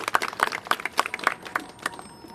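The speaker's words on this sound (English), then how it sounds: "Let's give them a big round of applause for all their work bringing us to this day." Audience applause at an outdoor announcement event for the Friendship Archway in Sunset Park's Chinatown, Brooklyn: a scattered patter of hand claps, moderately near, with uneven rhythm and no talk over it.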